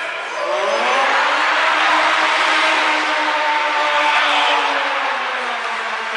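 A remote-controlled car drives continuously with a steady, loud whirring motor whine that rises and falls slightly, heard alone and close throughout.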